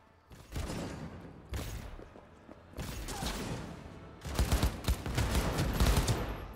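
Yinglong submachine gun firing in Cyberpunk 2077, four rapid automatic bursts of booming shots, each longer and heavier than the last, close and loud with no talk.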